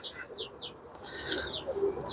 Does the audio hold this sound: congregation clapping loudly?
no